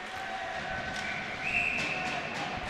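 A referee's whistle blows at a junior ice hockey game between Omaha Junior Varsity and Lincoln Junior Stars, a sustained shrill tone over steady arena noise.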